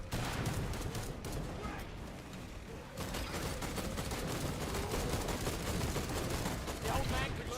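Rapid gunfire from Killing Floor 2, a dense continuous barrage of shots and mechanical clatter filling the whole stretch, with a brief dip near the middle before the firing resumes at full loudness.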